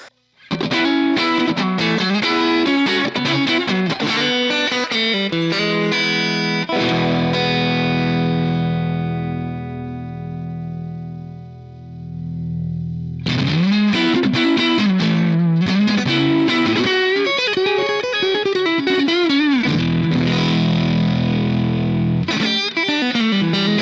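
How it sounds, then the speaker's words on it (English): Distorted electric guitar through the AmpliTube 5 amp simulator with heavy amp reverb, chords and riffs alternating with a long ringing sustain that slowly decays. "the reverb you're hearing there is coming from the amp as well"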